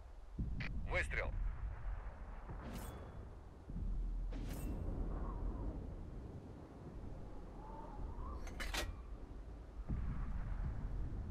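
Tank cannon shots in the World of Tanks video game, several sharp booming blasts spread across the stretch with rumbling between, while a voice speaks over them.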